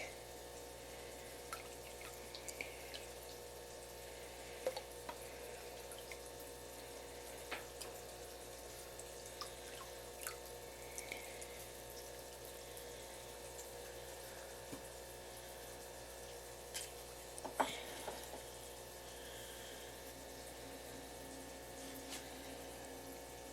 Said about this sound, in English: I'm going to just pour this in the tank.